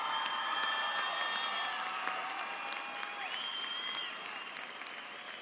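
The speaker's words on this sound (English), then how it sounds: "Let's give them a round of applause." A graduation audience at the Mountain View High School class of 2017 ceremony applauds steadily, a dense, continuous wash of clapping from a large crowd with a few cheers and whistles mixed in, gradually tapering.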